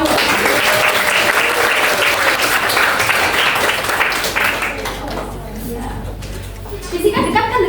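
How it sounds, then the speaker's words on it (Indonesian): A class of students in a physics lesson claps and cheers for several seconds, the applause fading out toward the end with a few voices chattering. "Kasih tepuk tangan dong buat Fani."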